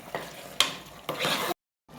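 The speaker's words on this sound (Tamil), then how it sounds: "இதை வந்து நல்லா கிளறி விட்டுக்கலாம்" Chicken for biryani frying in a pan as it is stirred, a few short sizzling bursts with scraping strokes, close by, broken by a brief silent gap near the end.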